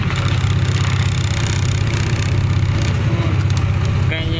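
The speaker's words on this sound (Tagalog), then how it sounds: "sobrang tahimik na ngayon ng makina guys" A Skygo King Cab 200 motorcycle engine idles steadily and low throughout, a continuous even rumble with no revving or other sounds standing out.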